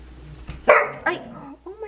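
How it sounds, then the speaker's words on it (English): A yappy puppy gives a single sharp bark in an indoor room, close and fairly loud, with a softer yelp following. "And one puppy is yappy."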